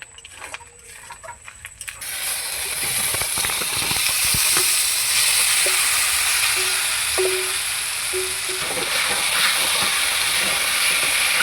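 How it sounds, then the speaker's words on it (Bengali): Marinated potatoes and soybean chunks tip into a hot wok over onion and ginger-garlic paste, bursting into a loud, sustained hissing sizzle that holds steady for several seconds. "এখন ম্যারিনেট করা আলু আর সয়াবিন কড়াইতে ঢেলে দেব।"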